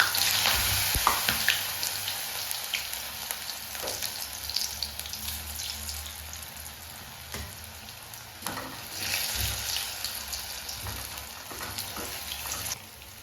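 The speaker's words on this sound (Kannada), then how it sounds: "ಈ ಎಣ್ಣೆ ಬಿಸಿ ಆದಮೇಲೆ ಈ ಒಳಗೆ ಈ ಆಲೂಗಡ್ಡೆ ಮಿಕ್ಸ್ ಮಾಡಿದ್ವಲ್ಲ ಹಾಕೊಂಬರ್ರಿ" Potato kebab mixture drops into hot oil in a pan and fries with a steady, crackling sizzle, with occasional stirring clinks and a faint watery hiss throughout, with no voices.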